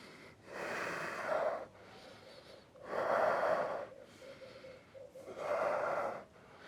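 Slow, deep yoga breaths taken while holding a full wheel backbend, three long audible exhales spaced a couple of seconds apart, near and soft with no talking.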